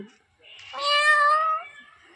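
A cat gives a single drawn-out meow, clear and close, rising and then falling over about a second, with a brief faint sound before it and quiet around it.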